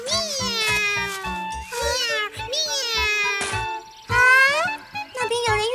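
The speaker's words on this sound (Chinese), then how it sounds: "小猫咪。" A cartoon cat meowing in a children's animated show, a series of bright, high, drawn-out meows with short pauses, loud and close.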